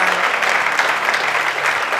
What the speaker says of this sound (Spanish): denle un fuerte aplauso al Señor en esta mañana